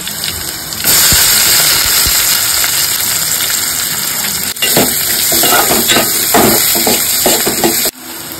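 Onion added to a hot pan with garlic, cooking a sevla vegetable dish, gives a loud, steady close sizzle that rises sharply after a quiet start, with stirring scrapes mixed in before it cuts off abruptly.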